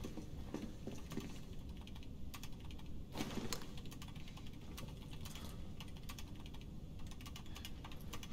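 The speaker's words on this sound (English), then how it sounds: "Dude, what are you typing?" Rapid clattering of computer keyboard typing in Resident Evil 3 Remake, a steady run of light, irregular key taps with a few louder clusters, alone without talk.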